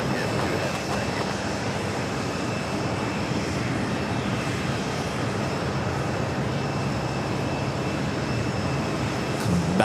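JetBlue Airbus A220-300 jet at New York JFK airport, a loud, steady broadband engine roar held for the whole stretch, with a faint voice underneath.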